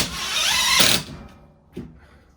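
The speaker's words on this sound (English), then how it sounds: "when I'm drilling, once I feel that I'm through the metal or the aluminum, I back it out." A power drill whines loudly for about a second as a self-tapping screw bites through aluminum into wood, then stops; a brief knock follows in the quiet.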